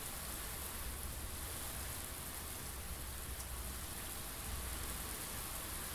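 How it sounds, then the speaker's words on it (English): Rain in the video game Blue Prince, a steady, even hiss of falling drops on surfaces that holds constant and alone with no other sounds. "Well, the rain's pretty relaxing"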